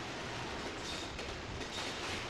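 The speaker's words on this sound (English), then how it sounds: "The Freightliner train is coming off the North London line." Freightliner freight train on the North London line rumbles past in a steady, faint, broadband roar with subtle rhythmic wheel noise and no voices.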